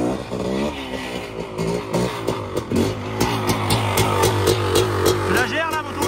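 A motorcycle engine revs up and down in rising and falling surges close by, with people talking over it throughout.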